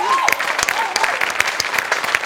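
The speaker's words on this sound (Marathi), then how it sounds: "अफलातून अभिजित पवारसाठी जोरदार टाळ्या." Studio audience at a Marathi comedy show breaks into steady applause, a dense patter of many hands clapping close and loud, with a faint voice briefly audible at the start.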